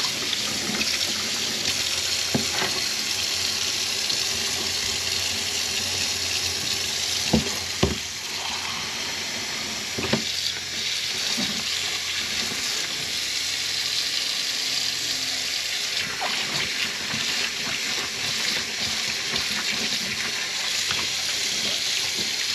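A Suzuki DR-Z air filter is worked and squeezed in soapy water, giving steady close sloshing and running-water noise with occasional wet squelches and clicks throughout.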